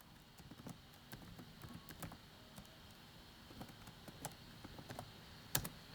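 Someone types a username and password on a computer keyboard, the quick, irregular keystroke clicks close and fairly soft over quiet room noise, ending in one sharper key press.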